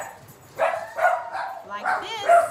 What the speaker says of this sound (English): All the dogs are going crazy.